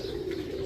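A pigeon gives a single short, low, throaty coo, close by and alone.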